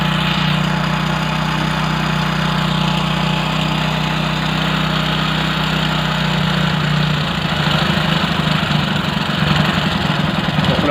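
A motorcycle engine idles steadily and close by while its carburetor air screw is turned, with a constant low drone that roughens and shifts in tone partway through.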